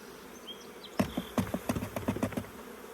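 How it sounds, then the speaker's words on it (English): Honey bees dumped into a box during hive work, a burst of buzzing with several sharp thumps and patters, close and fairly loud after a quiet start. "So we're just going to dump the bees in here."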